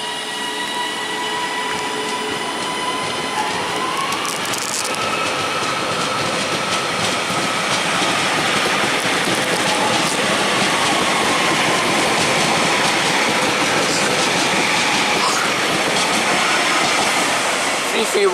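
A Northern class 331 electric multiple unit passes at Layton station, a continuous loud rolling rumble with rail hiss and faint wheel tones held steady for the whole stretch, close by.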